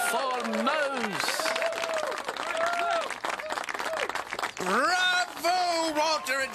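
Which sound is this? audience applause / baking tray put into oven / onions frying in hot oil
audience applause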